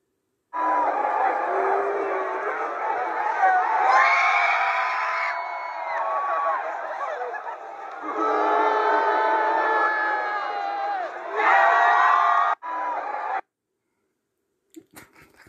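A large crowd cheers and whoops loudly in long swelling bursts, with brief dips between them, before cutting off into near silence.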